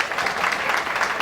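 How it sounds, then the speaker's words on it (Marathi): Guests at an engagement ceremony clapping loudly together, a brief burst of dense, steady applause with no voices on top. "तर या प्रेमाच्या टाळ्या जोरदार होऊन जाऊ द्या दोन्ही कांबळे आणि वावळ परिवार"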